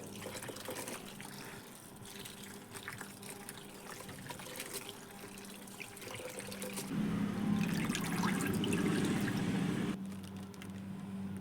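An old cloth being soaked in a bucket of water, to be coated with cement for a flower pot, gives continuous trickling and sloshing, swelling louder in the middle as it is pushed under.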